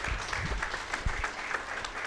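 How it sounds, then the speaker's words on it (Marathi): Audience applause fills an award ceremony hall, steady dense clapping sustained throughout at moderate loudness, with a few sharper individual claps standing out. "आपण जोरदार टाळ्या वाजूयात"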